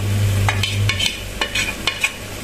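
Spiced meat pulao with black pepper, masala and cinnamon is stirred in a pot, a few distinct scraping strokes over a low sizzle and a steady background hum, close by.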